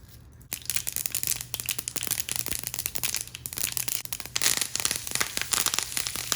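Mustard seeds crackle in hot coconut oil in a heated pan, a close, dense stream of rapid sharp pops and sizzling spatters that continues without pause.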